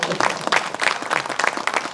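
A lecture audience at a civic education talk in Gwangju breaks into applause, with brisk, close clapping from a group of hands in quick, uneven bursts that continue steadily for two seconds.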